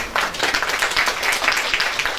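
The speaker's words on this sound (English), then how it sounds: "give a big round of applause to her" An audience at a governing body members' meeting breaks into a short burst of close, dense clapping that holds steady and carries no talk.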